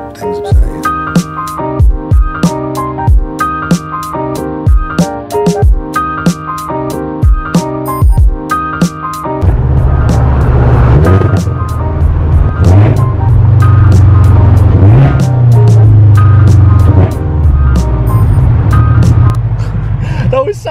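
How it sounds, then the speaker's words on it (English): A 1000 HP Nissan GT-R downshifting near a wall: rapid sharp engine blips and pops echo off the wall at first, then a loud sustained roar as the car pulls hard, close and continuous. "I can never like not downshift when I'm near a wall."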